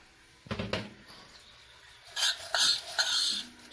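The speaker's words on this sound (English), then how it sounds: "Stir that around." Rice being stirred in a cooking pot, a brief scrape near 0.5 seconds followed by a run of bright clinking and scraping strokes in the second half, close and fairly loud.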